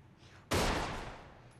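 A single loud gunshot in GTA IV: The Ballad of Gay Tony cracks sharply out of a quiet scene and rings out in a slowly fading tail.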